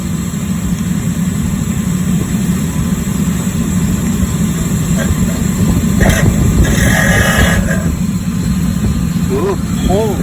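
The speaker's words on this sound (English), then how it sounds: "for now it's good for a test fire" A diesel heater test firing on a bench before its exhaust and intake are added: a steady low rumbling roar runs throughout, with a few brief clicks and higher whistling sweeps near the end.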